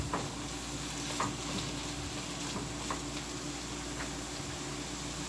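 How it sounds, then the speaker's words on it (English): Green bananas boiling in a pot, a steady bubbling hiss and faint crackle that runs evenly throughout, with no voices. "I'm boiling my guineos and they should be done."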